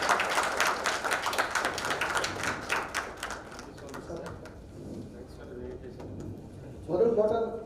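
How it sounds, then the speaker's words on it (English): Applause from an audience at a partners' business meeting greeting a company CTO, dense clapping loud at first and fading after a few seconds, followed by a voice speaking. "Please give a round of applause."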